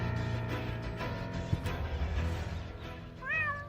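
A scared pet cat stuck up a tree gives a faint, drawn-out meow near the end, heard over a dull background.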